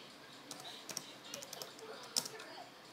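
Light keyboard typing on a Windows XP computer, quiet and close, with scattered clicks and a few sharper key taps in irregular bursts.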